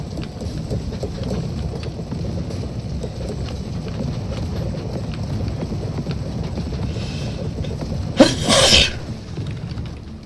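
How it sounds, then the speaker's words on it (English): A sneeze from a character in the video game TerraTech Worlds, set in a swamp: a single sharp, loud burst near the end over steady ambient game noise and faint clopping, no speech. "And now we're sneezing."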